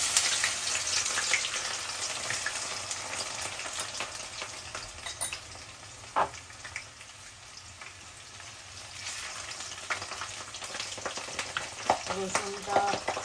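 Ground garlic paste frying in hot oil, a steady loud sizzle with crackling spatters and occasional stirring scrapes throughout, no voices.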